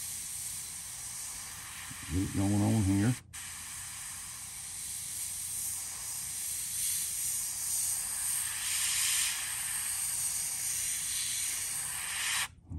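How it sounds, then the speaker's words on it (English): An airbrush spray gun (Krios PS771) hisses in a steady, close, continuous stream of spray while painting a fishing lure, running for about ten seconds after a brief burst of voice near the start. "And I'll just test my gun, make sure it's spraying."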